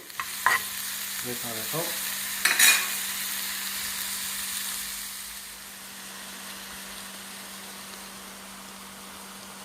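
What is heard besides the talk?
onion frying and being stirred in a pan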